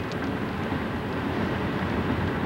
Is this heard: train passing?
yes